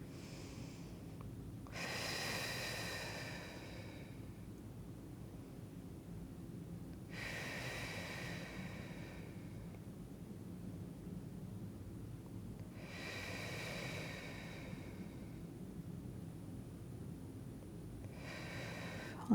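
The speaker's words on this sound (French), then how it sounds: "on va prendre quelques grandes respirations" Several slow, deep breaths during a stretching and mobility session, each long inhale or exhale rising and fading in a steady rhythm about every five seconds, close and clear over a low background hum.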